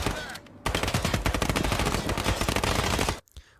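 Sustained automatic gunfire in the tactical shooter Ground Branch, a rapid close burst of shots that cuts in sharply, runs nearly three seconds and stops abruptly, followed by a couple of isolated cracks.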